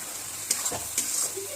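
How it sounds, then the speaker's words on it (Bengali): Spice paste with turmeric and salt sizzles faintly in hot oil while a spoon scrapes and stirs it in a few short strokes. "নুন হলুদ দিয়ে আবার ভালো করে মশলাটাকে কষিয়ে নিতে হবে"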